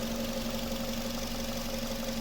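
A 2008 Nissan Qashqai+2 with a 2.0-litre naturally aspirated petrol engine idles steadily and evenly, a low continuous hum with a faint rhythmic knock, close by and with no voices.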